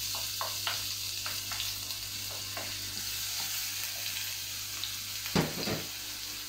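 Oil sizzling in a frying pan while halibut cooks, a steady moderate hiss with a few light taps of utensils and a sharper clatter near the end, no voices.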